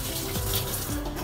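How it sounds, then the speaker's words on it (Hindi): Water from boiled potato chips pours and gushes out of a pot in a home kitchen as it is drained, a steady close rushing flow with no voices. "अच्छी तरह से आपको पानी को निकालना है।"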